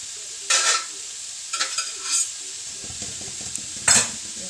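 Egg fried rice with grated ginger and soy sauce being stirred in a frying pan: a few sharp scraping stirs of a utensil against the pan, separated by quieter gaps with a low sizzle underneath, up close.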